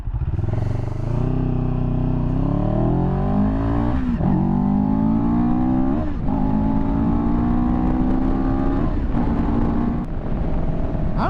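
A 2023 CFMoto 700CL-X Sport motorcycle engine revving while riding, rising through the gears with clear shift breaks, loud and close throughout with no talk.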